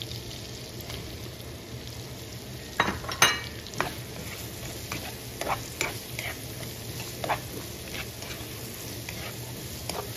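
Mushrooms hit a hot pan and sizzle steadily, with scattered clinks and scrapes of a utensil stirring, each stir knocking against the pan at irregular intervals.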